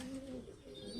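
Soft, close cooing from a young pigeon, a low steady murmur of coos over faint background hiss, with no talk.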